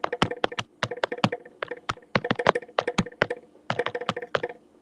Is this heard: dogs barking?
no